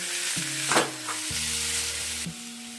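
Masala with radish greens sizzles in a pan while a spoon stirs it, a steady close frying hiss with two or three brief scraping swishes and a low tonal hum underneath.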